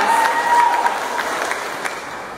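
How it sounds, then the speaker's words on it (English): Graduates at a 2015 MSW commencement applaud together, a dense, steady wash of clapping with a faint voice or tone briefly riding over it early on. "You guys deserve a round of applause."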